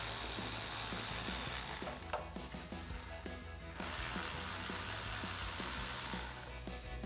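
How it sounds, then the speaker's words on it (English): A ratchet with a 7mm socket loosens hose clamps on the intercooler couplers of a 2015-2026 Ford F-150, clicking in quick rapid bursts close up with brief pauses between strokes. "For this, we're going to be using a 7mm socket and a ratchet."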